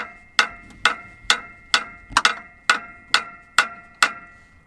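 A hammer strikes a stuck clutch on an 80-year-old Jeep, ringing out in ten evenly spaced sharp metallic blows, one quick double hit midway, each with a short ringing decay, loud and near with no talking.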